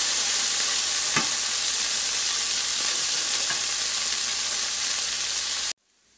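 Mashed boiled potatoes stirred into green masala frying in a pan, a steady loud sizzle throughout with a few sharp scraping stirs, ending abruptly in near silence.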